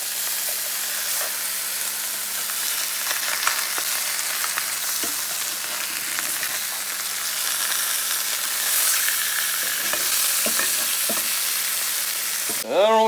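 Catfish fillets fry in hot oil with a steady, bright sizzle and hiss that continues throughout, punctuated by faint clinks and scrapes of a utensil, ending with a short sharp noise.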